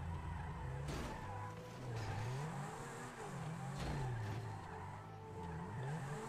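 A car in GTA V Online drives with a steady engine drone, revving up and down as it rises and falls in pitch, with tire screeches and skidding thuds near 1 and 3.8 seconds, close and moderately loud with no talking.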